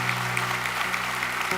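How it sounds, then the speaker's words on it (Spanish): Applause from a church congregation giving praise to the Lord, a brief steady patter of many clapping hands over a sustained low organ-like hum, fairly close and continuous. "Démosle ese aplauso al Señor"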